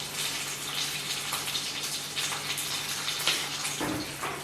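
Cream pours into a pot of stock in a steady, close, gushing liquid stream that runs without a break under a constant hiss.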